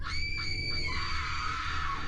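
Screams of a girl and children as a horror story sound effect, high shrill tones sustained for about two seconds over a low rumbling bed, fairly close and steady.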